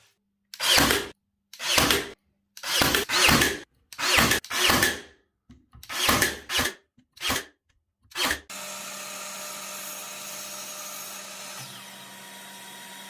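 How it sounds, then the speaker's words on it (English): Glue-and-brad-nail assembly of a wooden workshop cart for woodworking: a string of about a dozen loud, separate bursts of tool noise with short pauses between, then a steady hum running to the end, with no talk. "we're just going to start assembling it all with glue and brad nails"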